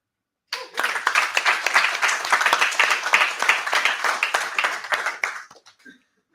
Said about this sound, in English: giving them a round of applause as well